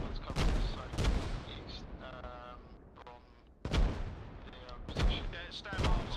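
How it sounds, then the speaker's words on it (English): Mortar and artillery fire in the Arma Reforger military shooter, heavy booming blasts landing every second or so, loud and close, with a distant rumble and rattle of gunfire between them and talk over the top. "I'm following those mortars."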